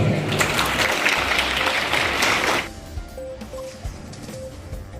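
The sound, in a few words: applause for a mother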